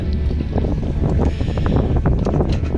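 Sailboat out at sea on its first outing, heard as a steady rush of wind buffeting the microphone, with water and hull noise continuous throughout and no voices.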